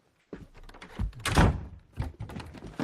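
A door thuds shut in a Harry Potter film scene, a single dull heavy thunk with some rattling and shuffling around it, close and fairly loud.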